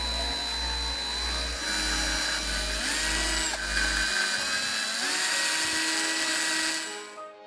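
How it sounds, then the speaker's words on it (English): A small power drill bores holes in a homemade mini drone body, its motor whining loudly and steadily with rising and falling pitch as the bit bites, then spinning down at the end. "After that, I drilled some holes on the drone body"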